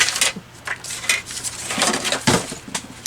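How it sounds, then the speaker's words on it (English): Metal scissors tossed into a trash bin amid a crafting session, giving several quick clattering, clinking hits of metal against other items, close and fairly loud with no talk. "just threw my scissors in the trash too."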